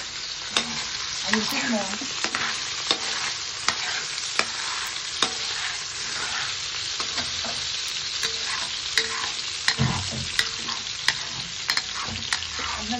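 Chopsuey vegetables and onion stir-fried in a hot pan, a steady loud sizzle broken by repeated scraping and clacking strokes of a spatula, with a brief spoken remark and some clatter near the end.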